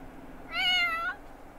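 A stray cat in The Sims 4 gives a single clear, mid-length meow, fairly close and alone against a quiet background.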